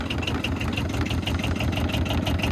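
An Arctic Cat Diesel 700, a cold-blooded diesel machine, idles while it warms up. The engine runs in a steady, close, rhythmic chug with a slight ticking pulse, and no talk is heard.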